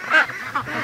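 Free-range backyard ducks quack twice in quick succession, loud and close, two short nasal calls.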